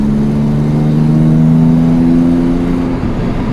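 Carbureted Jaguar E-Type engine revving while driving, heard from inside with a four-speed gearbox: a steady, loud, deep drone that holds its pitch and swells slightly, then eases near the end, with no talk.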